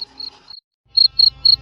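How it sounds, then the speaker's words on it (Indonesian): Crickets chirp in a yard at night, a few short, bright trills in clear bursts separated by a brief silence, fairly close and alone with no voices. "suara jangkrik yang ada di halaman menenteramkan kegelapan"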